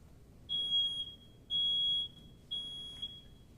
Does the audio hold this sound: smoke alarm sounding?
yes